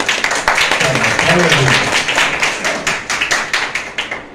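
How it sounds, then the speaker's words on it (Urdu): A church congregation at a healing meeting claps loudly together, the clapping settling into sharp, fairly regular group beats by the end, with a voice speaking over the earlier part. "ایک دفعہ زور سے تالیاں بجائیں"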